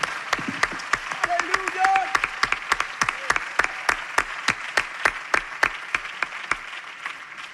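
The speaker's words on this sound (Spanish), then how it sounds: "Why don't we give the Lord a hand clap" Church congregation clapping in a steady, evenly spaced rhythm, loud and close, with voices briefly heard under the claps early on.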